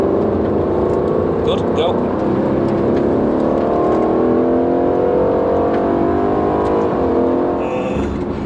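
A 2018 Aston Martin Vantage engine drones loud and continuous on a race track, a steady in-car roar with a short spoken instruction over it.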